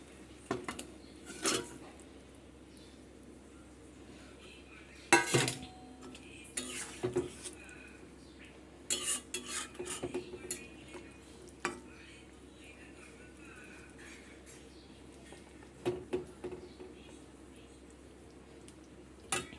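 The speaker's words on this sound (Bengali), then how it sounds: "এবার দিয়ে দেবো আগে থেকে ভেজে রাখা পটলটা" Pre-fried pointed gourd goes into a pan of cooked spices, with sharp clinks and scrapes of a utensil against the pan in irregular bursts over a faint sizzle.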